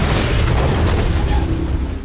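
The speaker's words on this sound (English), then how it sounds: "The blast hits everyone on the ship." A massive explosion on a warship during the Pearl Harbor attack: a loud, deep rumbling blast that fills the entire moment and fades slightly at the end.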